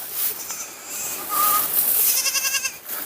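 Goats on a farm where grass is grown for feed, bleating in several short, nasal cries close by, the last call breaking into a rapid wavering bleat.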